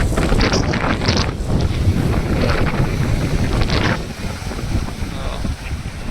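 Sea waves crash and surge in a loud, continuous roar close to the shore, with heavy wind buffeting the microphone throughout and a few brief swells rising above the rush.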